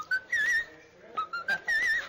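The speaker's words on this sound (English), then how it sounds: "Whistle register, it's very, very, very high up" A singer's voice rises into the very high whistle register, producing thin, piercing whistle-like notes in a few short phrases with brief gaps.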